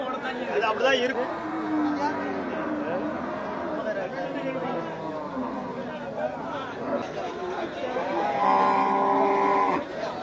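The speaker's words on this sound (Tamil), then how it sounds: "இது நாட்டு மாடு." Native breed cattle low and moo at a cattle market, the calls rising loud and drawn out near the end, while people chatter nearby throughout.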